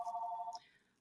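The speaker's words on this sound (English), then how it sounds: "that's the problem with the landline. You never know how many times it's going to ring." A landline telephone rings with one bright electronic trill burst that stops partway through, followed by quiet room tone.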